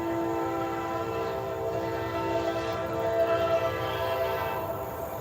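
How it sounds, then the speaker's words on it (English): A train rumbles past a garden with a steady, loud drone and sustained horn-like tones holding throughout, close and continuous with no talk. "and the train's not helping."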